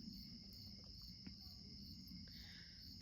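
Crickets chirp in a continuous high-pitched trill, faint and steady, with a few soft ticks in a quiet setting.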